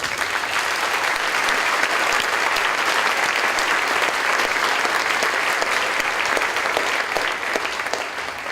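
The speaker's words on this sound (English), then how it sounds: "we certainly as a community owe them a round of applause and appreciation." A community audience gives a sustained round of applause, many hands clapping in a dense, even roar from start to finish.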